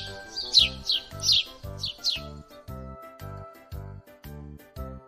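A bird chirps in a quick series of bright, close tweets over a gentle repeating musical backing, then the calls stop while the music continues.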